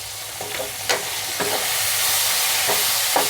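Small chopped tomato pieces cook in a pan for a millet pulihora dish under a steady loud sizzle and hiss, with a few sharp stirring clicks and scrapes spaced irregularly through it.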